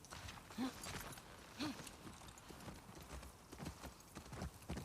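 Horse hooves in The Last of Us Part II clip-clop in a steady, quiet walking rhythm, faint and slightly distant against a soft background hiss.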